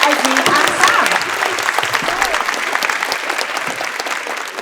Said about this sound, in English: can we have a big round of applause please for Meg, Esme and Sam?